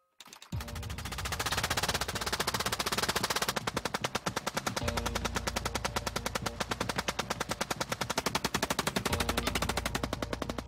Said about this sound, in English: the Gatling gun could unleash 600.